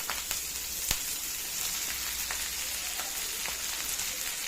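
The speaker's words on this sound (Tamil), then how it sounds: "இப்போ கடுகு பொறிஞ்சிருச்சு" Mustard seeds pop and splutter in hot oil in a pan, the first step of a Tamil moringa leaf stir-fry. A steady close sizzle is broken by sharp, scattered pops, and no voices are heard.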